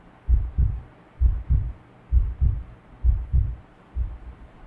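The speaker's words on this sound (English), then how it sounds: "Oh, his heartbeat." Low, paired lub-dub heartbeat from the video game Blacksad: Under the Skin, thudding steadily in five close, evenly spaced double pulses with no other sound.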